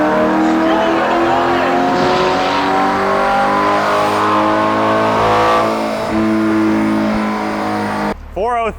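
A Chevrolet Corvette C8 race car engine revs hard and loud under acceleration, with a continuous close-up roar and shifting pitch, ending in a brief voice.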